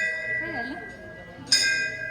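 A temple bell rings with a bright struck tone that hangs and slowly fades, while a voice murmurs faintly underneath.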